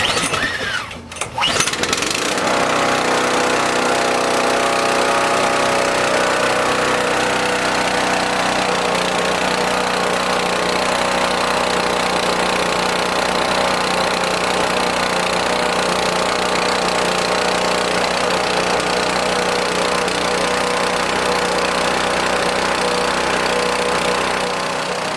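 Small engine running on 93 octane fuel, started with a brief sputter and then holding a loud, steady mower-like drone with a rough knocking pulse, close by and continuous.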